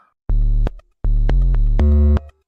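Synth notes run through a grain delay effect: two sustained harmonic tones with stuttering, repeating grainy echoes that shift pitch, loud and close, no talking.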